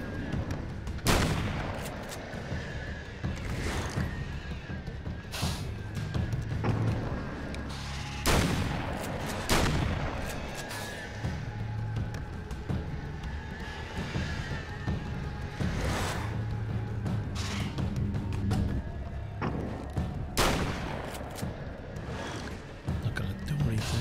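Assault rifle fire in the video game Alan Wake American Nightmare, a series of sharp shots and bursts spread across the stretch over game ambience, with someone talking in between.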